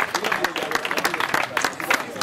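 A crowd applauds at the finish-area award ceremony of a cycling hill climb in San Lorenzello, with dense, steady clapping and a few voices mixed in throughout.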